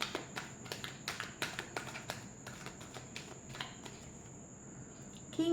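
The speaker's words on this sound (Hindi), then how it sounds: "last shuffle" A deck of tarot cards is shuffled with a rapid run of crisp, close riffling taps, quiet and dry, with no talking.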